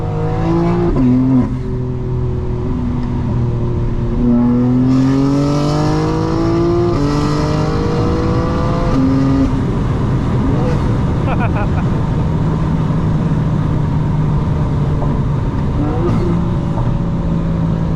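A 2025 BMW M4 Competition in all-wheel drive revs up through several gears in city traffic, the pitch climbing and dropping with each shift, loud and close, then settling into a steady roar.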